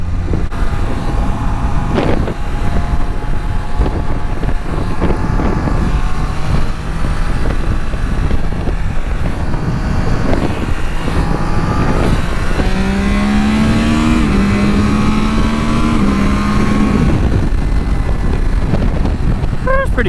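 A 2022 Triumph Trident 660 three-cylinder motorcycle rides along and accelerates, its engine note rising through the gears over loud wind rush, with a rider talking now and then.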